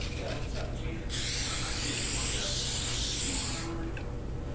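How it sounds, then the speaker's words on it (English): A continuous spray of non-stick cooking spray onto a baking sheet hisses for about two and a half seconds, loud and close, set against faint background noise. "I'm just going to spray it with no stick spray."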